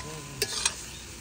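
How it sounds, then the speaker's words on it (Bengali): Spice paste of chilli, ginger and garlic going into a pan at an outdoor picnic cookout, with a faint steady sizzle broken by two short bright scrapes of stirring, heard close and alone. "এবার মশলা যাচ্ছে আমাদের সব পেস্ট। শুধু লঙ্কা এতে না, লঙ্কা আদা রসুন সব আছে।"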